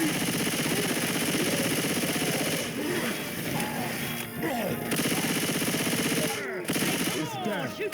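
Rapid automatic gunfire rattles continuously in the Left 4 Dead video game, dense and loud with overlapping bursts, while voices shout over the shooting.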